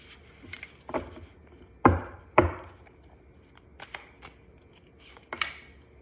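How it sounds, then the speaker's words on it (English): Tarot cards are shuffled by hand at close range, with sharp crisp snaps and soft rustling bursts scattered irregularly through a quiet room. "Let me shuffle a couple more times here."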